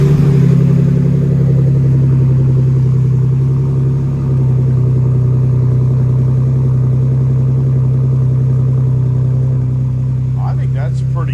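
A V6 car with an aftermarket exhaust idles with a deep, steady exhaust rumble throughout, the low drone holding constant with only slight swells, at a car meet.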